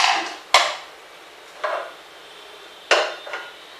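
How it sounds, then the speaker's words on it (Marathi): A pressure cooker is picked up and set down in a home kitchen, giving three or four sharp metallic clanks and knocks with short ringing tails, spaced irregularly against a quiet background. "एक कुकर घेऊया"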